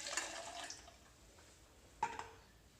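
Water being poured over lemon juice while making lemonade, a faint splashing trickle at the start and another brief splash later, quiet and close with no talking.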